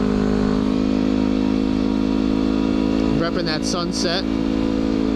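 Little Honda motorcycle with a sissy bar cruising along Route 9, its steady engine drone loud and constant throughout while a person talks briefly over it near the end.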